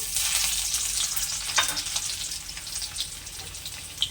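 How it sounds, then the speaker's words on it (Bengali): Whole cumin seeds and crushed garlic fry in hot oil for a rui fish kalia, giving a steady close sizzle with a few brief stirring clinks and no voices. "জিরে আর রসুনটা একটু ভাজা ভাজা হয়ে এলে"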